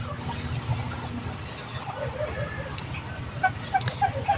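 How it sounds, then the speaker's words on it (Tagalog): Chickens cluck and chatter nearby in short, scattered calls over a low background rumble, growing busier toward the end. "Dahil may mga manok pa to."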